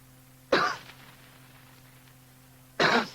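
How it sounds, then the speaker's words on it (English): Two short, sharp coughs about two seconds apart, close by, in an otherwise quiet room. "he gave what he thought was a discreet cough."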